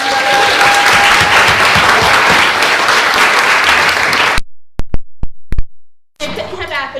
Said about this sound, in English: So one round of applause for our panelists